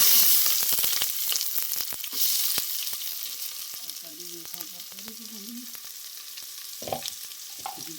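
Onions go into hot oil for a jackfruit vegetable dish in a Konkan village kitchen, opening with a crackling sizzle and a cluster of sharp spatters, then settling into a quieter fry, with a voice briefly heard midway.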